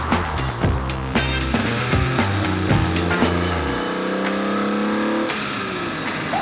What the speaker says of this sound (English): We're gonna go do some driving now.